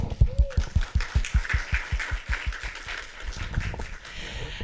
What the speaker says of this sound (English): I just want to give everyone a nice round of applause